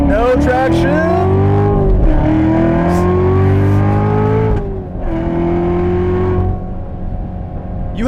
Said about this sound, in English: It's been a long time since I've driven a car that was spinning the tires at 80 miles an hour like it's nothing.